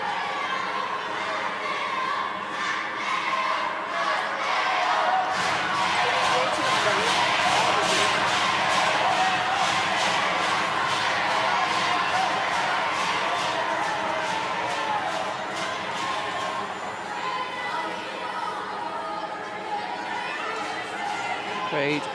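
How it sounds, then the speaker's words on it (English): Arena crowd at a Great Britain versus Italy mixed-team wheelchair curling match in Milano, a steady broad roar of voices and cheering sustained throughout, loud and continuous with rising bursts in the middle. "Crowd willing their team to get this over the finish line."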